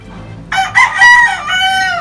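A rooster crows loudly and close by in a rooftop chicken coop, one full drawn-out cock-a-doodle-doo call rising sharply and holding to the end, with faint hen clucks beneath.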